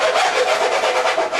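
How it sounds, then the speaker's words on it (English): A small two-sided hand rasp files the cut edge of a wooden adjustable cabinet shelf, giving a steady, close scraping rub that repeats in quick strokes with no talking. "the little hand rasp I have has one side for smooth and one side for rough"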